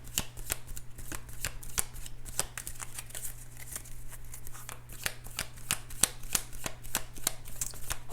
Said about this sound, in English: Heart-shaped cards are definitely not the easiest to shuffle.